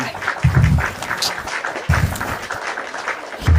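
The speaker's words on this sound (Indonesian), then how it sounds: "Tepuk tangan buat RK." An audience applauds a guest after an evening religious discussion, a steady wash of clapping from the crowd with voices talking over it throughout.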